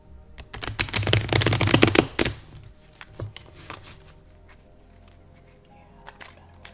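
Tarot cards being shuffled, a close rapid flurry of riffling card clicks for about two seconds, then scattered soft taps and card handling that fade into quiet.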